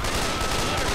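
Rapid gunfire from weapons in the zombie shooter Left 4 Dead 2, a dense, continuous burst of loud shots filling the whole moment without a clear gap.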